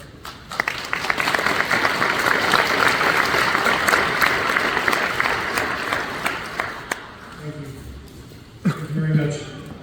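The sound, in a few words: audience applause for the judge at naturalization ceremony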